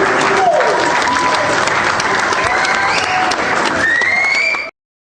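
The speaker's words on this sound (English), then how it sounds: "Let's clap it up." Loud audience applause and cheering on a sports talk show, a thick burst of clapping with whoops and voices over it, steady and close, then cutting off abruptly.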